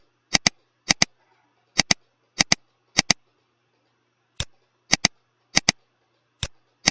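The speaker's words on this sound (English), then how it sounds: "So I'm clicking through, waiting until it tells me to submit it." Computer mouse clicking through an online physiology lab program, sharp double clicks in quick pairs repeated about a dozen times with pauses between, close and crisp in a quiet room.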